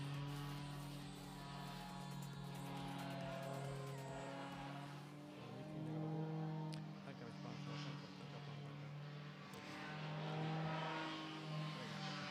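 A Sky Engines Aries 260 paramotor engine at a world paramotor slalom championship drones steadily throughout, rising and falling slightly in pitch, while a commentator talks over it.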